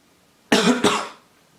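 A loud, close cough in two quick bursts, harsh and chesty, then silence.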